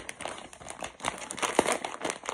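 Plastic packaging of a Garten of Banban plushie, held shut with tape, crinkles and crackles softly in irregular bursts as someone struggles to open it.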